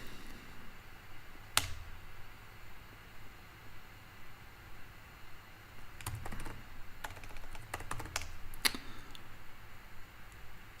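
Quiet, close keyboard typing comes in sparse bursts of clicky keystrokes, with a few sharper key taps standing out over a faint steady hiss and no talking.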